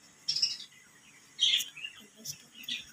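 Chirps and calls from pet pigeons being fed grain, in a few brief bursts with quiet gaps between.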